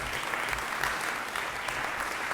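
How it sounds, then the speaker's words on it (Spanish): A church congregation applauds steadily and fairly loudly, a dense wash of many hands clapping together without pause. "Denle un aplauso al Señor."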